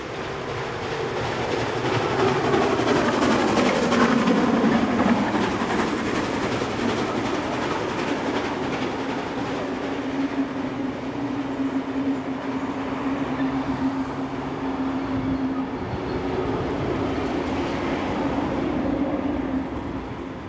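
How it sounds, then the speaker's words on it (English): Steam locomotive 3265 rumbles steadily past at Mortdale in New South Wales, crossing over Ellen's subway, with a loud continuous roar of wheels and carriages and a faint rail squeal sustained throughout. "On the return journey, we see the locomotive passing through Mortdale over Ellen's subway."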